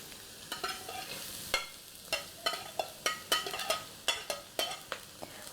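Shallot and garlic frying in hot oil in a pan, a soft steady sizzle broken by a series of sharp, rhythmic scraping and stirring clacks.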